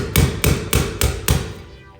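A hammer gives five evenly spaced, solid knocks while tapping a recessed can light into place in a ceiling, close and fairly loud, with no talk over it.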